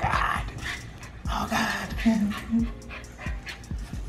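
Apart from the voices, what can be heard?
puppy whimpering and growling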